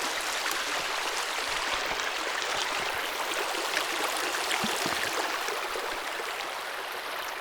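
Steady rushing of a mountain stream, broadband water noise flowing continuously and fairly close, with small splashes and gurgles throughout, as water is collected from it.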